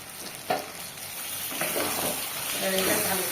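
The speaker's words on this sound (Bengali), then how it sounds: "এবারে এটা ভালো করে কষাবো।" Ginger and garlic frying in a pan for an eggplant dish, a steady close sizzle with a few scraping stirs and light clinks.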